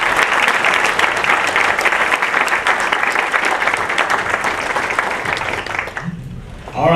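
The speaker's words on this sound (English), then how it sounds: "Now let's give these folks a round of applause." A chamber of commerce meeting audience gives a steady round of applause, dense clapping that carries on for about six seconds before fading out.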